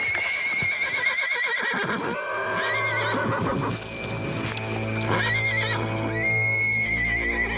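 Several loud horse neighs and whinnies ring out nearby, overlapping and wavering in pitch, with snorting and shuffling hooves between calls.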